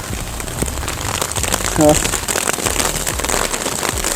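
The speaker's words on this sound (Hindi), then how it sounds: "ऐसी बारिश कभी एक्सपीरियंस नहीं करी हमने, नेवर इन आवर लाइफ" Heavy rain pours down in a mountain downpour on the road from Pithoragarh to Munsiyari, a loud, dense, steady hiss throughout, while someone speaks briefly over it.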